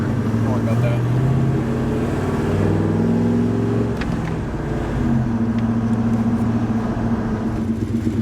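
A turbocharged car with a 2.0 2v engine drives along, its engine droning and rising and falling in pitch with a faint turbo whine, while someone talks over it.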